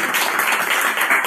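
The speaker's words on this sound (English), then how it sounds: "I'm going to get you guys to just give us a round of applause." A live podcast audience claps together in a room, a brief dense burst of applause that holds steady throughout.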